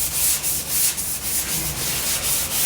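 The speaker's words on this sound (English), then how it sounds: "but I think I can sand it out" Body filler on a Porsche 356 is sanded by hand, giving a close, steady rasping rub with regular rhythmic strokes roughly every quarter second and no voices.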